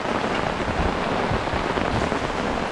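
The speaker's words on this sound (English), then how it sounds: "The rain is coming under my tarp." Heavy thunderstorm rain pours onto a camping tarp, a dense, steady hiss of drumming drops filling the whole moment without any talk.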